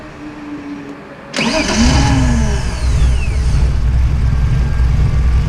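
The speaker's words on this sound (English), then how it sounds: "Now that everything's tight, let's start it and see if it'll rev." A right-hand-drive widebody BMW E36 engine fitted with individual throttle bodies cranks and catches, then settles into a loud, steady running note close by, with no voices.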